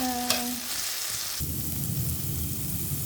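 Eggplant frying in hot oil in a pan for a home-cooked Filipino lunch, a steady close sizzle that swells loudly after a brief lull, with a short clatter near the start.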